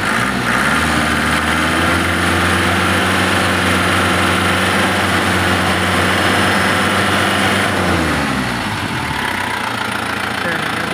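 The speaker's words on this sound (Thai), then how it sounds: "เร่งเครื่องให้ดูหน่อย" An Isuzu Buddy pickup with its original engine runs loud and close, holding a steady revved drone for several seconds before the pitch drops back toward idle near the end, with a voice briefly audible over it.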